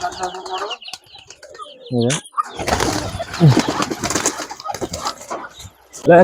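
Giribaz pigeons coo and flap their wings nearby while people talk over them.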